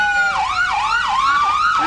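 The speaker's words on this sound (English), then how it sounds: "I think they're going for loudest siren" A Milton Fire Department truck siren wails loud and close in an October Fest parade, rising and falling in quick repeated sweeps with faint crowd noise beneath.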